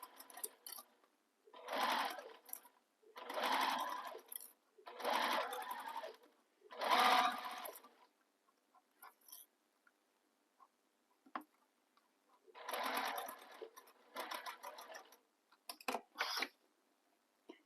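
A sewing machine stitches a bag seam in a run of short bursts, each a steady whirring rattle, separated by pauses with light clicks and ticks; a longer gap falls midway before two final bursts.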